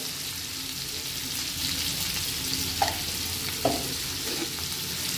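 Baby potatoes fry with turmeric in a pan, giving a steady, close sizzle with two brief clinks of the stirring spoon against the pan.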